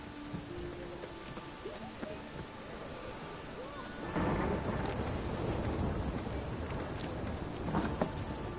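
Steady rain with distant thunder rumbles in The Witcher 3 game world, a soft patter at first that swells into a heavier, denser downpour partway through, with occasional louder rolls near the end.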